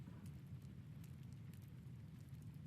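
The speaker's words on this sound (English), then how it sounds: "This game actually has a really nice rain sound." Rain in the video game RuneScape Dragonwilds makes a quiet, steady low rumble with faint patter, continuous and without talk.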